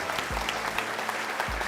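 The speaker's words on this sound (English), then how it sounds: "One last big clap to all of you" Audience applause at a quiz show finale, a dense wash of claps held steady throughout, with low thumps underneath and no talk.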